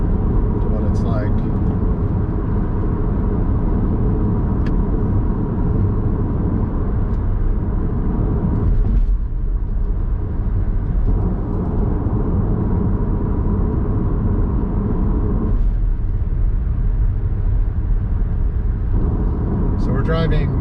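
A car drives along Highway 126 in Oregon toward the Holiday Farm wildfire. A loud, steady road rumble and engine drone run throughout, with brief swells as other traffic passes.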